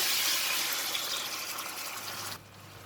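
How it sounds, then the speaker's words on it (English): Water poured into a hot pan of stir-fried kailan stems, a steady broadband rush and sizzle close by that stops abruptly near the end, leaving a quiet hum. "I'm going to add in a bit of water"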